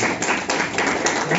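A church congregation claps together in a dense, uneven patter of many hands, a few louder bursts standing out across the short stretch, close and lively in a large room.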